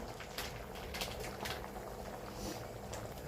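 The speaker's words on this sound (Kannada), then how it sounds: "ಸಾರೀಗ ಕಾಯಕ್ಕೆ ಶುರುವಾಗಿದೆ" Mutton keema curry broth coming to a boil in a pot, a steady low bubbling and simmering hiss heard close and alone, with faint crackles.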